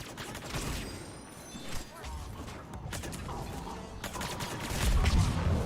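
Suppressor gunfire in Mass Effect 3 multiplayer comes as repeated sharp shots and short bursts at close range, mixed with mechanical clatter. A voice talks over the shooting.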